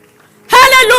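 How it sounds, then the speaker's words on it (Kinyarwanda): Congregation clapping together during a church service, a sudden dense burst of applause that starts midway and stays loud to the end after a near-silent opening. "Twakomeye Imana yacu amashyi."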